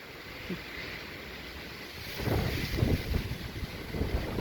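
Blustery wind buffets the microphone, a steady rumble that surges louder and gustier partway through, with a faint hiss of water or waves beneath.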